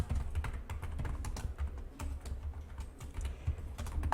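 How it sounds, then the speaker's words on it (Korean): Steady clicking of keys on a computer keyboard as the Ctrl+Shift+O shortcut is entered, with soft, continuous typing taps close by and no voices. "단축키는 이제 컨트롤 시프트 O를 눌렀을 때 글자 깨트리기가 가능하고요"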